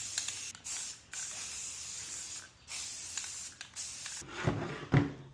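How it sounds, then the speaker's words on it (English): Aerosol spray of gloss protective enamel top coat hissing onto an Adirondack chair in steady bursts separated by short pauses, close and fairly quiet, with a few clunks of handling near the end. "here we go with the top coat. Gloss Protective Enamel."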